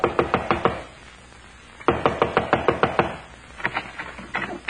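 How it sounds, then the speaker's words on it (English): Knuckles rap on a wooden front door as a radio drama sound effect, three bursts of rapid knocks separated by short pauses, close and crisp, with no voices over them. "Within 15 minutes, I was knocking on his front door."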